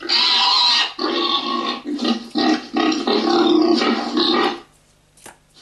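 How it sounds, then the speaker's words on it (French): A pig sound played by an Arduino children's toy prototype: a loud, rough stretch of grunting and squealing lasting several seconds before cutting off, followed by a brief fainter noise. "Et en toute logique, le dernier devrait être le cochon."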